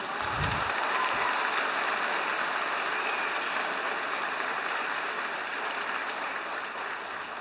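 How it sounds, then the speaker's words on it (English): Sustained applause from a conference audience at a model UN opening ceremony, thanking the secretariat team, a steady dense wash of clapping that holds throughout and tapers slightly near the end. "Let's give them a round of applause right now."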